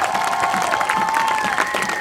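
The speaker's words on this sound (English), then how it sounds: "Everybody give her a big round of applause." An outdoor summer games crowd applauds and cheers steadily, with dense clapping and whoops, and a high-pitched shout or whistle carrying over the noise throughout.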